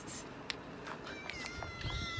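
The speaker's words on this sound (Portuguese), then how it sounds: "Olha o gatinho lá," A cat meows somewhere along a hiking trail, faint and distant, in a few thin high cries over soft outdoor background noise.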